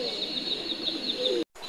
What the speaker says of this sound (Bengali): দেখতেই পাচ্ছেন আপনারা কতগুলা কবুতর এখানে